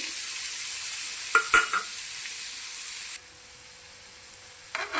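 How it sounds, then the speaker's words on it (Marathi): Paneer is stirred into a frying masala for paneer bhurji, giving a steady sizzle with a few scraping stirs near the middle. The frying hiss then drops to a quieter level before a short burst of stirring at the end. "चला तर मग आता पनीर टाकून मिक्स करून घेऊया।"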